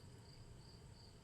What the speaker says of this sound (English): You can hear the crickets from outside.